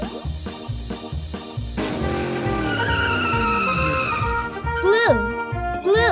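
A cartoon dump truck sound effect from a children's nursery game: a bright, engine-like rumble with squealing, sweeping tones, layered over a bouncy, tuneful backing.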